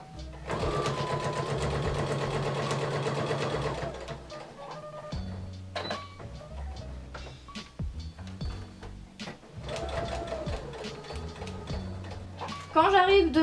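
Reusable cotton makeup remover wipes run through a sewing machine, with a long steady stretch of fast stitching, a pause with handling noises, then another run of stitching, all loud and close.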